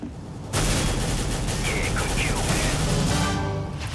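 Rapid automatic gunfire from the video game Counter-Strike: Global Offensive bursts in suddenly and continues as a dense, loud rattle.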